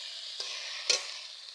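Ginger garlic paste dropped into a hot pan for a spicy mustard fish curry, a steady sizzle broken by two short scraping stirs, the second louder, with no voices.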